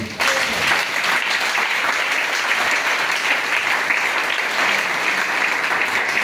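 A church congregation bursts into loud, sustained applause, a dense wall of clapping that holds steady from start to finish with no voices rising above it.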